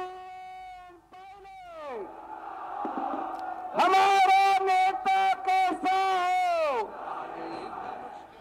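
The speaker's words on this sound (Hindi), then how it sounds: "सचिन पायलट की पदयात्रा के समापन के मौके पर अच्छी खासी भीड़ जुटी।" A large, enthusiastic crowd at the closing rally of Sachin Pilot's padyatra in Rajasthan, with loud sustained cheering and chanting in waves, swelling to peak bursts in the middle before easing.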